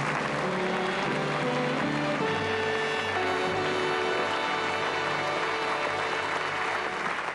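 A studio audience breaks into sustained, loud applause, a dense unbroken wash of many hands clapping, with music playing underneath, at a 1988 television magic and memory show.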